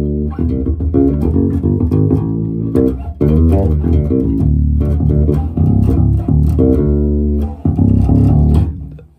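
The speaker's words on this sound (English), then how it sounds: "let's see how the bridge pickup sounds" Fodera Emperor Deluxe five-string electric bass played through its bridge pickup alone, a loud continuous run of plucked notes with a steady rhythm and a brief pause near the middle, with no talking.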